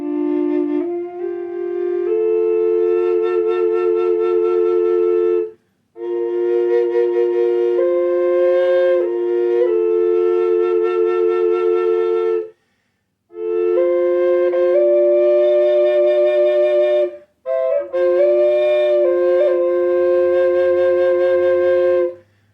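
Native American low D double drone flute tuned to 440 Hz, played in long sustained breathy notes with a steady drone beneath the melody, four phrases separated by short pauses, clear and alone.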